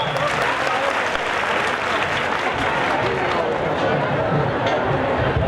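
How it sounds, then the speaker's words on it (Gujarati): A crowd at a community mass wedding ceremony in Viramgam bursts into loud, dense applause that stays steady and unbroken throughout, with a murmur of voices mixed into the clapping. "કરી મારો જોરદાર તાળીઓ એકવાર"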